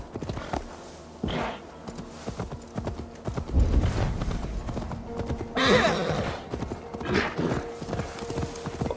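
Horse hooves clip-clop in Assassin's Creed Valhalla, a busy run of close, rhythmic hoofbeats with a snort or whinny mixed in among other game sounds.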